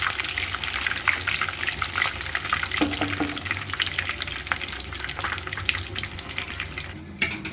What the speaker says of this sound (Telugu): ఇవి 2 వైపులా బాగా ఏగేటట్టుగా వేయించుకోవాలి.